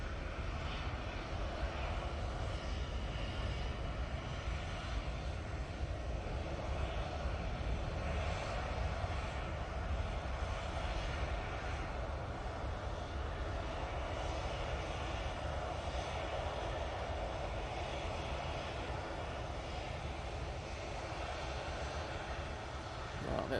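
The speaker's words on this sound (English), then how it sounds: "Coming in from Naples now, we have the EasyJet" An EasyJet Airbus A320neo arriving at Manchester Airport from Naples gives a steady, broad jet roar that holds at an even level throughout, as if close by, with no clear rise or fade.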